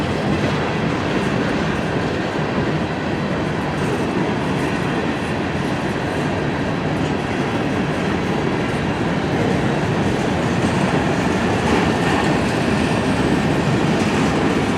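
A long westbound CN M399 mixed freight train rolls past close by, its steady broadband rumble and rail clatter filling the whole stretch without a break.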